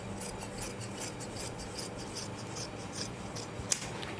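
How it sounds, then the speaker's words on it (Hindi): Scissors snip through extra Rajputi suit fabric along a paper cutting pattern, giving a steady close rasping and rubbing texture with faint repeated cuts and one sharp click near the end, with no voices. "ये जो एक्स्ट्रा फैब्रिक है वो हम कट कर लेंगे"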